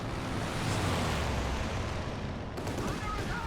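Anti-tank strafing air attack in the Company of Heroes 2 video game, heard as a loud, dense, sustained roar of explosions and gunfire rumble filling the whole moment, with a slight shift partway through.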